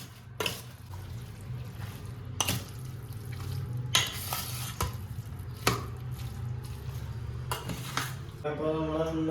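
Chicken being mixed with marinade in a bowl for chicken chukka, wet squelching and stirring with occasional clinks of utensils against the dish over a steady background hum.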